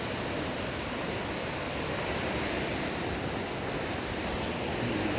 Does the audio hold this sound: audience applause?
no